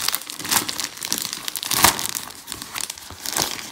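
A Panini 2018 World Cup sticker pack wrapper is tugged and torn open, with crinkly plastic rustles and sharper tearing bursts close to the ear.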